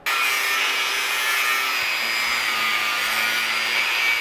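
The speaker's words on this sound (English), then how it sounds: "we're gonna try to get this cut out and then burn it into the center of the sprocket" A power tool grinds steadily at a metal sprocket being cut out for the drive of a China UTV repair, producing a continuous loud abrasive whine with no talking over it.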